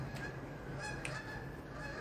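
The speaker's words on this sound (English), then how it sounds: "Geese." Geese honking at a distance, several repeated calls standing out faintly against a steady background hiss.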